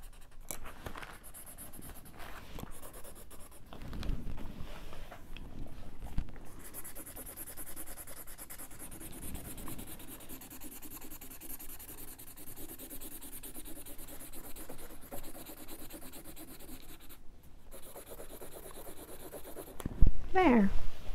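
Pencil or pen scratching across paper in an activity book, a steady soft rubbing and scribbling that continues close and quiet for the whole stretch, with a brief louder rustle near the end.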